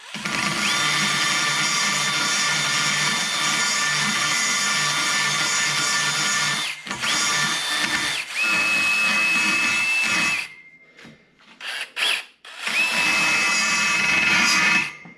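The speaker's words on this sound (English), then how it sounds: "I'm gonna take a burr and get it started, clean it up real nice." A high-pitched rotary burr whines steadily as it grinds out a hole in a rusted metal wheel, running continuously with brief pauses and restarts, close and loud.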